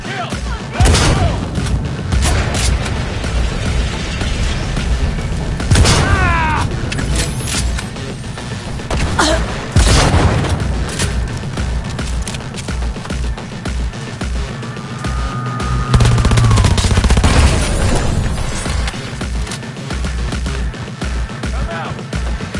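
Heavy gunfire during an armed raid: loud bursts and booming shots repeat across the scene, mixed with mechanical clatter and shouted voices.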